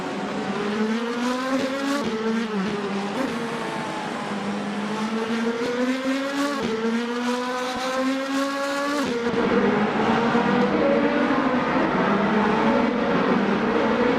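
Race cars in a racing video game roar past with a steady engine whine that rises and falls in pitch over repeated gear shifts, growing louder near the end, with no talking.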